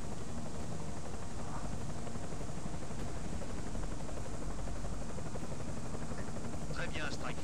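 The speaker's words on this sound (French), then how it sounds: "Hélico ennemi en vue." Enemy helicopter in the video game Deus Ex, a steady, fairly faint rotor drone running throughout under a noisy background.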